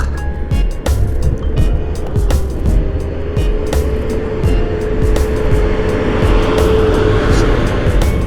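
A truck rolls past on a mountain road, its engine drone building and fading beneath steady wind buffeting and the rider's own vehicle hum, with repeated sharp clicks and knocks scattered throughout.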